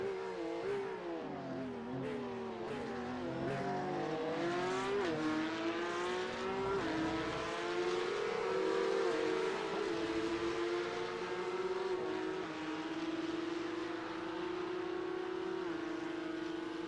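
Porsche Cup race cars in a sim racing game lap the Montreal circuit with layered engine whines climbing and falling through gear changes, steady and fairly loud, with several cars overlapping and no talk.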